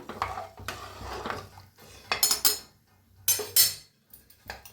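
Cooking rice is stirred in a pot after salt goes in, giving several bursts of scraping, clinking spoon-on-metal sounds separated by short pauses, close and moderately loud.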